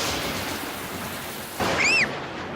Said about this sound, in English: Mummy, the thunder bangs are very loud.